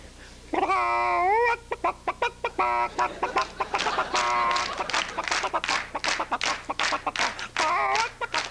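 A comedian imitates a chicken on stage, a man clucking and squawking in a rapid, warbling run of bursts with a few drawn-out crowing cries, loud and close.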